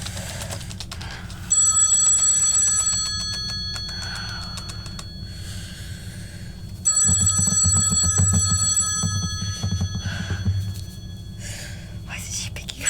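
A telephone rings in two long bursts of bright, trilling bell tone, each lasting a few seconds, in a school drama class performance, with hushed whispering and low background rumble between and under the rings.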